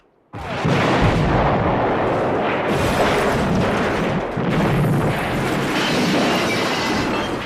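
A building explosion from a comedy film: a massive, sustained explosive roar with rumbling debris, starting abruptly after a brief silence and continuing loudly with no voices.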